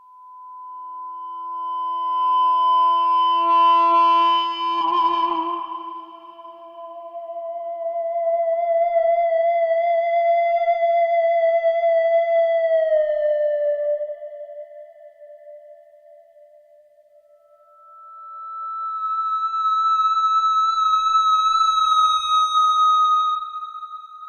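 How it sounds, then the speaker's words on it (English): A Digitech Freqout natural feedback pedal sustaining pure guitar-like feedback tones with no dry note, smooth singing pitches that swell, bend and shift over about twenty seconds, clean and alone. "with the dry switch, we can just make the pedal do the feedback"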